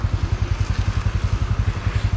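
An old motorcycle engine idles steadily close by, a rapid, even low thudding pulse with a light mechanical clatter and no talk.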